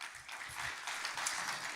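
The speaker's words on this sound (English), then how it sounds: "big round of applause" An audience applauds at an Inspired Leaders gathering, a soft, even spatter of many hands clapping together at a distance, faint and steady for a brief moment.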